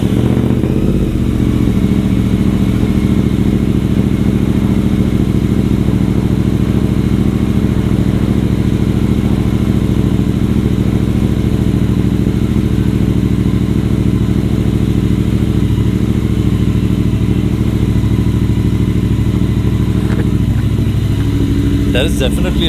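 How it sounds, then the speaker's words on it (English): A Royal Enfield Interceptor 650 twin fitted with an AEW aftermarket exhaust idles close by, giving a loud, steady, bass-heavy rumble that never lets up, with a little clatter near the end. "I'll just give you guys a listen how this exhaust sounds now."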